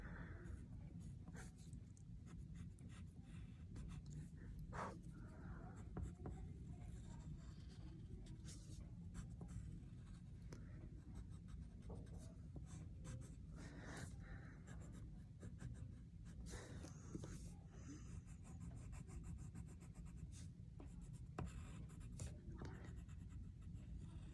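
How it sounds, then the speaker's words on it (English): A colored pencil, pressed hard, scratches steadily across paper in close, continuous strokes for the whole stretch, with a low steady hum underneath. "I am pressing hard with my colored pencil because I want it to be a deep, rich color"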